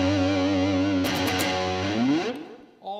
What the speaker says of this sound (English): you can just hit that, and it almost sounds like you got 2 distortion pedals.